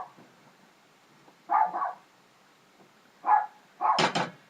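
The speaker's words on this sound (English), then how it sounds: "My doggy's barking." A pet dog barks indoors in a home kitchen, giving a few separate bark bursts followed by a quicker cluster of sharper barks, moderately close and loud with no talk over them.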